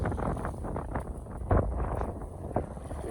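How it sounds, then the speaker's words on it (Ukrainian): Low gusty wind buffeting outdoors, rumbling against the microphone with a few sharper bumps, no speech. "вітер роздувся"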